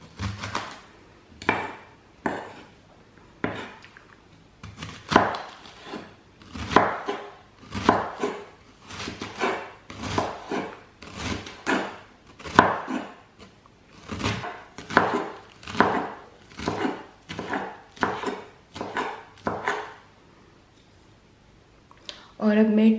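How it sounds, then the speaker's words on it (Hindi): A knife thinly slicing Chinese leaves on a cutting board, a steady series of distinct, close chopping thuds at an even rhythm that stops near the end. "और अब हम अपनी चाइनीज़ लीफ को काटेंगे, इनको भी हम पतला पतला काटेंगे।"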